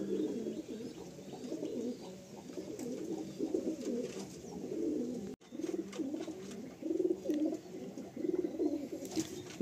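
Pigeons in a loft coo continuously in overlapping low, burbling phrases, a flock heard close up at moderate volume with no speech.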